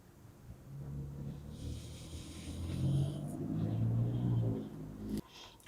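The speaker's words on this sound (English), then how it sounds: "We've been told that it must be a car" From inside an old 1800s tin shop building, a faint low rumble of a car passing outside swells to a peak and then fades away. A brief knock sounds near the end.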